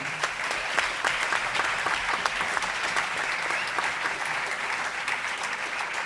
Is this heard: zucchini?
no